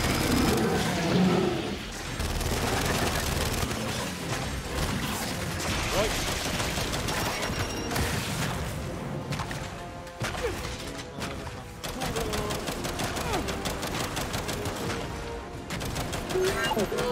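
Gunfire in a chaotic video game battle against a carrier, rapid overlapping shots and crashing impacts sustained loud throughout, with shouted voices mixed in.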